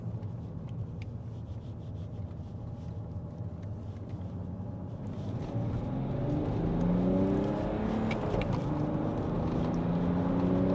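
BMW E90 330d saloon with the 3.0-litre M57 diesel pulling hard in second gear, a steady low engine drone that swells louder around midway, with rising whine tones as revs climb.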